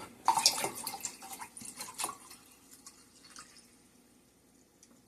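Salted water, stirred and readied for iftar, is poured into a container, with a close splashing trickle at first that tapers into softer drips and fades away.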